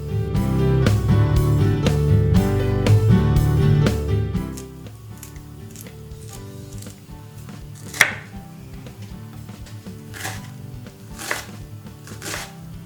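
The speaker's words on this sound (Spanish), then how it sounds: "Picamos el ajo y la cebolla." Garlic and onion chopped with a knife on a cutting board: a few sharp knife knocks sound clearly at first, then sparser, quieter chops follow, with a pulsing steady beat playing underneath throughout.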